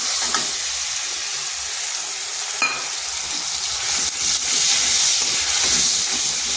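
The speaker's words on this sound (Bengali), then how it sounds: "এই মশলাটা খুব কষে নিচ্ছি" Spice paste sizzles in a hot pan just after whole cumin seeds, cooked for a vegetarian kundri (ivy gourd) dish; a loud, steady frying hiss runs throughout, with occasional stirring scrapes and no talking.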